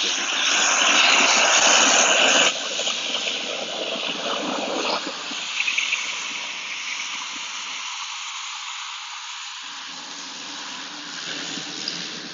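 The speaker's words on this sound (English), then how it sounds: "I do get periodically interrupted by the sound of an aircraft going by like this" An aircraft passing at an airport, a loud broadband roar that is strongest at the start and then eases into a steady, softer rushing hiss.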